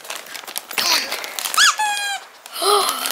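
A squeaky toy squeals a few times up close, with one long sustained squeak amid rustling and crinkling.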